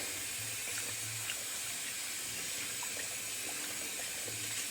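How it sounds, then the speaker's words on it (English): Running water pours steadily from a tap as a wet shaving brush is rinsed, a continuous broadband hiss with no voices. "getting the brush cleaned up real quickly"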